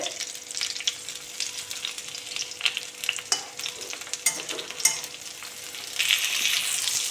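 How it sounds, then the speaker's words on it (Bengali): Pointed gourd pieces sizzle and crackle in hot oil in a pan, with occasional stirring clicks and scrapes, steady and close. "এদিকে পটলটাও ভাজা ভাজা হয়ে গেছে আর একটু হালকা হবে"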